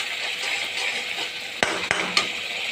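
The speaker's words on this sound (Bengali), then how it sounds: "লঙ্কা গুঁড়ো, একটু জিরে ধনে গুঁড়ো সব কিছু দিয়ে ভালো করে মশলাটা কষিয়ে নেব যতক্ষণ না তেল ছাড়ে" Ground masala of turmeric, chilli, cumin and coriander powder being stirred and fried in oil for a rohu fish kalia, with a steady soft sizzle and a few sharp spoon scrapes against the pan near the end.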